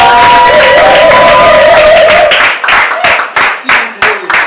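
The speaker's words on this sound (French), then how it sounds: "Est-ce qu'on peut applaudir pour ce couple-là?" Applause and cheering from guests at a civil wedding ceremony, loud and crowded with high ululating cries at first, then breaking into scattered rhythmic claps as voices drop away.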